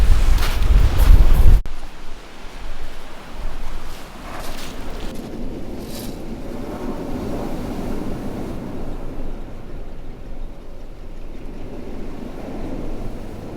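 Steady wind rushes across a Sussex beach by the sea during a fishing session, a continuous broadband roar with a louder buffeting gust at the start.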